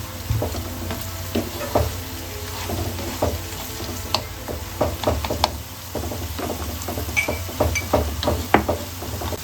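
Vegetables and peas being stirred into vegetarian fried rice in a pan, with soft sizzling under repeated light scraping and knocking of the spatula against the pan throughout.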